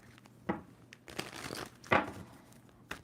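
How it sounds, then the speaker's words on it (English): A tarot card deck is shuffled by hand, giving several quick papery riffles and crisp flutters in short bursts, close and fairly quiet with no talking. "2 more shuffles for Gemini."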